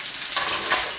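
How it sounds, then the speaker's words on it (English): Potatoes and onions sauté in a pan, giving a dense, bright sizzle with scraping stirs from a wooden spoon, close and steady over about a second. "it's kind of like a pan fry saute"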